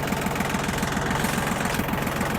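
An old Yanmar F16D tractor engine running close by, with a steady, rapid diesel knock and rumble throughout and no voices.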